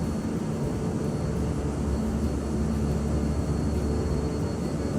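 Simulated King Air 350 twin turboprop engines roaring steadily on the takeoff roll in Microsoft Flight Simulator, a loud continuous low drone with a broad hiss, with no talk over it.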